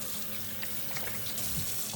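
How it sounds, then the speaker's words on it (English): A kitchen sink tap running as hands are rinsed beneath it, a steady close splashing hiss of water with slight fluctuations over two seconds. "I'm going to step back to the sink and just rinse my hands a little bit."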